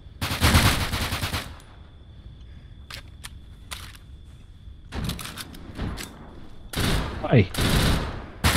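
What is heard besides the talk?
gunshots in the video game Deadside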